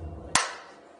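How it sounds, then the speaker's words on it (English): A single sharp hand clap, loud and close, with a short ringing decay in a quiet room, preceded by faint low murmuring. "can you give me a clap?"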